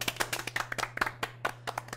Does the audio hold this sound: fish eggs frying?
no